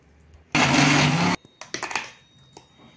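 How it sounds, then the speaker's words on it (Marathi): A mixer grinder whirs loudly for about a second while grinding an onion- and garlic-free Jain vatan masala paste, then stops, followed by scattered clicks and clatter of the jar. "आता त्यामध्येच हे उरलेलंही घालूया आणि सगळं एक जीव छान वाटण आपलं वाटून घेऊया."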